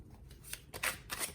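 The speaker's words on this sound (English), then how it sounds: "This is me shuffling them for the camera." Playing cards lettered for a reading game get shuffled close up, a quick run of crisp riffling flutters and soft slaps in bursts, with no talk.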